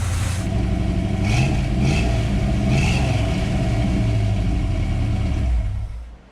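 A 1966 Chevrolet C10 with a small-block V8 runs with an exhaust leak, a loud, close, rough, steady idle with a few raspy revs and ticking puffs before cutting off at the end.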